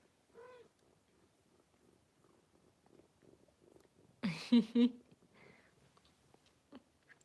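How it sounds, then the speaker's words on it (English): A cat purrs softly in a quiet room, with a brief louder rustle or thump partway through. "He has such a loud purr."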